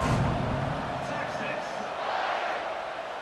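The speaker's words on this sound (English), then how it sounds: "They're set to kick it off, and this crowd now ready to get behind them." A stadium crowd roars steadily at kickoff in College Football 26, San Jose State against Texas, a dense, loud wash of cheering that holds for a few seconds, with a commentator's voice over it.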